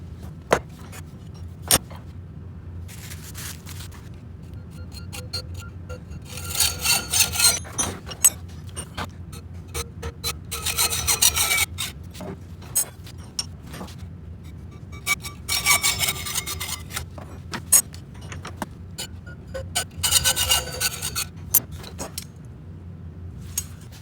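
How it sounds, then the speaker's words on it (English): A belt sander smoothing the uneven edges of wooden pieces, with a low steady motor hum and loud rasping bursts each time the wood is pressed against the belt, plus scattered clicks. "I'm going to clean it up on the belt sander, sand off the edges that are not straight"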